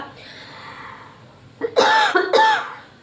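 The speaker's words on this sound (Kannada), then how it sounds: "ಆ್ಯಕ್ಚುಲಿ ಏನಕ್ಕೆ ಕೆಮ್ಮು ಬರ್ತಾ ಇದೆ" A woman coughs twice in quick succession, close and fairly loud, after a few seconds of quiet room tone.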